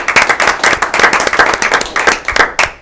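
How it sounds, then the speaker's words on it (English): A small audience claps in a round of applause for Channel 3, loud and close, with individual hand claps clearly separated in a quick, uneven rhythm before tapering off. "let's have a round of applause for Channel 3 here."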